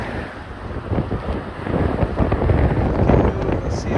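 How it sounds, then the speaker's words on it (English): Heavy wind on the Golden Gate Bridge buffets the microphone in constant low rumbling gusts that build slightly louder toward the end, with no speech. "There's a real heavy wind."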